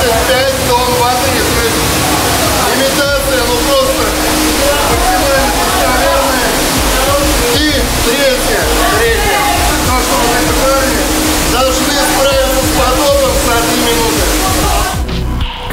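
Heavy water sloshing and pouring through a navy ship damage-control simulator tank holding up to 75 tons of water, a loud continuous rushing wash filling the space, with voices faintly present beneath it.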